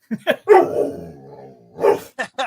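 A dog barks close by in several short, loud bursts, with one drawn-out, howl-like bark in the middle.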